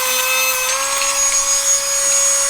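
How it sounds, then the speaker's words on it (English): A steel cable being cut off a $250 garage crane hoist: a steady, loud grinding hiss with a sustained whine that runs unbroken for a couple of seconds, close by and with no voices. "We're gonna cut the steel cable off of here because I don't see any other way to unbolt her."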